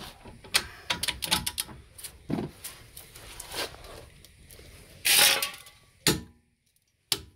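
Torque wrench tightening a bolt on a Renault Mégane, heard as a run of close, sharp mechanical clicks and ratcheting, then a few louder isolated clacks with a short pause near the end.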